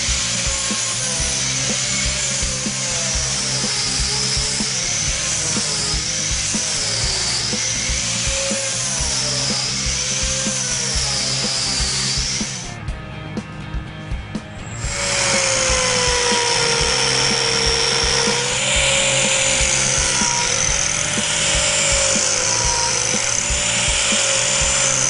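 An Arbortech Turbo Plane shapes wood with a loud, continuous whirring grind that rises and falls as the cutter sweeps across the surface, pausing briefly midway before resuming.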